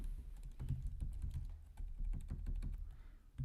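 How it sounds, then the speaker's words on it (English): Quiet, close keyboard typing: a fast, uneven run of soft key clicks over a low background hum, steady for a few seconds with no voices. "Let me just type it in there."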